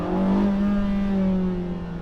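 A Porsche 918 Spyder, with a rear V8 and electric motors, accelerating: a loud, close, rising engine drone with a strong steady tone that holds and fades slightly, no voices.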